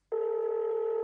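A telephone tone sounds, one steady electronic tone that starts suddenly and holds for about a second.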